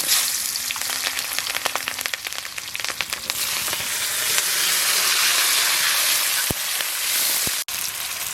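Potatoes hit hot oil in a pan with dried red chillies and cumin, cooked in a village kitchen, and set off a loud, steady, close sizzle that runs throughout with no voices.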